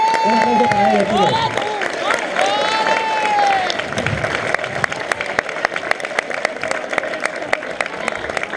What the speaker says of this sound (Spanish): un aplauso para ellos, chicos